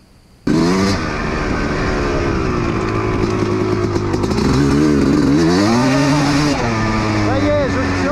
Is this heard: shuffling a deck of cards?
no